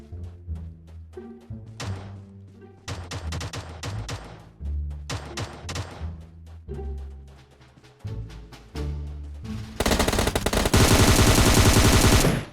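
In the mobile game PUBG Mobile, an intense, continuous burst of machine gun fire roars loudly at the end, after a stretch of rhythmic game music and scattered sharp shots.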